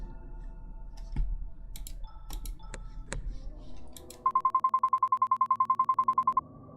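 A phone rings in the video game Lover's Enigma, a rapid electronic trill of evenly spaced beeps following a few sharp clicks and taps.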